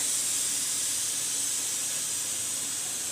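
A tadka sizzles in hot oil for whole masoor dal, giving a loud, continuous, even hiss with no pauses and no voices.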